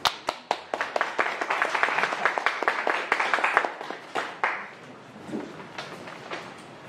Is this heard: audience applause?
yes